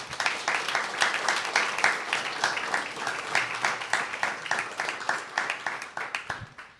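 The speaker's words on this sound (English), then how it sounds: "Please give Tim a huge round of applause." Audience applause for a guest speaker at a talk on freedom in the space of PEN Ukraine, a dense wash of clapping from a room of listeners that holds steady and then tapers off toward the end.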